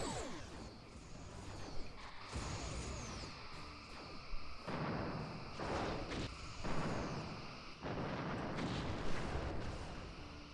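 Starship weapons fire in the Star Trek Bridge Commander space combat game: repeated bursts and whooshing energy blasts with booming impacts, fairly faint, spaced irregularly over a continuous rumbling engine bed.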